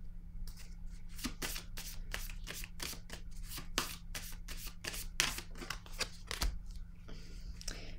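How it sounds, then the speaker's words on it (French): Tarot cards being shuffled and drawn, a quick, close run of crisp riffling flicks and card snaps in a quiet room. "Je vais piger une autre carte ici."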